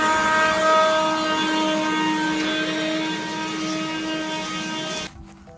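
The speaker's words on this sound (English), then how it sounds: "I'm going to use the air blower to go ahead and clean off all the concrete surfaces" An air blower, or leaf blower, clears leaves off concrete surfaces with a loud steady motor whine and a constant airy rush that holds for about five seconds before cutting off abruptly.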